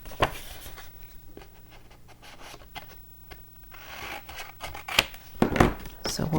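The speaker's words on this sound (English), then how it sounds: "Let's use my scissors somewhere in here." Scissors snip and crunch through paper in a few close, uneven cuts, with soft rustling and handling sounds in between.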